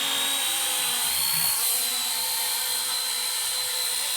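Small RC helicopter under $100 doing an auto takeoff, its rotors and motor giving a steady, high-pitched whine close by that holds level throughout, with no talk.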